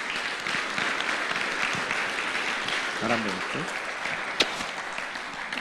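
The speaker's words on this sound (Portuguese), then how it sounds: "Uma salva de palmas para essa manhã." An audience claps at a motivational business talk, a moderate, steady patter of hands in the room while a voice speaks briefly over it.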